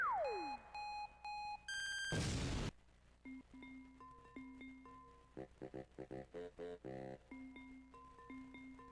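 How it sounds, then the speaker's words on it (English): An electronic alarm sound effect plays, with a falling tone and bursts of repeated beeps, a harsh noisy blast, then stuttering pulsed beeps and tones, all electronic with no voices. "Sound the alarm."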